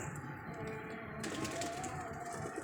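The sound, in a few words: pigeons at a pigeon club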